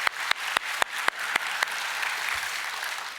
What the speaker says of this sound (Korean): 박수로 한번 격려하게 하겠습니다